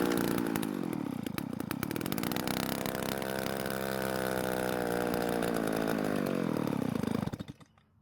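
An old Stihl 024 AV chainsaw engine runs at a loud, rough, steady idle for several seconds, tending to stall, then cuts out abruptly and falls silent.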